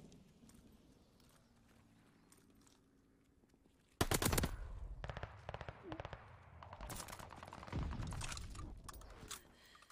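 Gunfire in Call of Duty: Vanguard erupts after quiet game ambience, loud rapid automatic bursts and scattered shots that keep rattling close by, with no voices.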